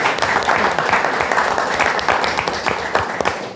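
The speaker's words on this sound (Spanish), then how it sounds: "le pido un fuerte aplauso" An audience at a Christian fellowship chapter meeting applauds in a steady, continuous wash of clapping throughout, close and fairly loud, with a voice faintly present underneath.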